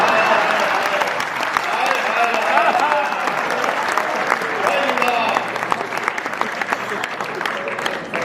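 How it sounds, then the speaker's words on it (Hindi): Scattered applause from an audience at a Hindi comic poetry reading, uneven and patchy rather than a full ovation, with bursts of clapping that rise and thin out over several seconds. "व्यंग के लिए तालियां थोड़ी कम है टुकड़ों में ज्यादा बज रही है"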